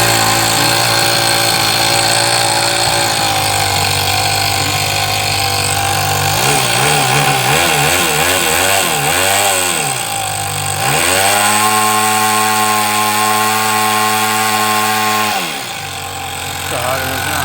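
A Toyan FS-S100 model engine with glow plugs is cranked by its starter and runs as a loud, continuous buzzing drone. Its pitch wavers up and down, then holds a steady high-revving whine before easing off.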